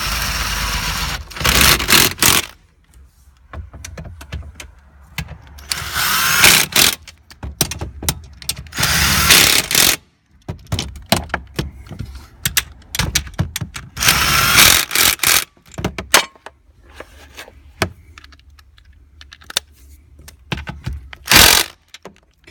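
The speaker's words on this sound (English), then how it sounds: "I'm going to use the cordless impact gun and go ahead and take the column up" Cordless impact gun driving steering column bolts on a 2000-2006 Honda Insight first generation, heard as several loud bursts of ratcheting hammering with quieter clicks and handling noise between them, and no talking.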